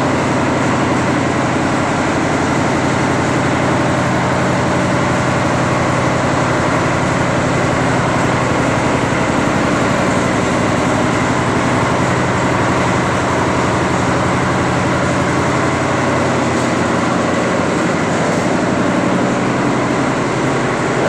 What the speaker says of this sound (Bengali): আর এগুলো হচ্ছে মেন ইঞ্জিন